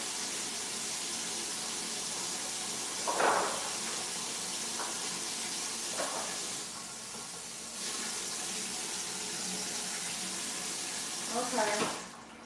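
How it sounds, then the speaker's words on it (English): Kitchen tap water runs steadily into a sink while carrots are rinsed for glazed carrots, a constant close rush broken by a few brief splashes and thumps as the carrots are handled. "Let me wash the carrots off."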